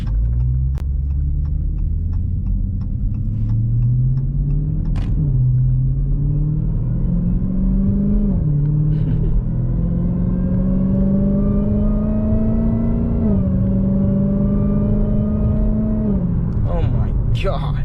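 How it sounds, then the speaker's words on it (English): A car with a loud aftermarket exhaust, likely just installed, revs and idles up close, the engine note rising in steps with brief drops between revs and a whining tone above; it runs steadily throughout. "Let me let y'all hear some of the exhaust though."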